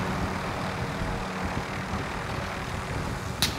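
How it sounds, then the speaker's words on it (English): A helicopter in Call of Duty Warzone drones steadily and close, a dense rotor and engine roar that continues unbroken with a brief sharp click near the end. "Get in the chopper!"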